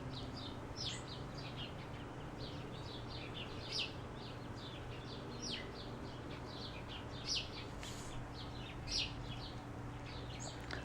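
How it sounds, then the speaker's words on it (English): Birds chirp outdoors on a cold day, repeated short high twitters scattered across the moment, fairly faint over a low steady background hum. "Do you hear that? The birds."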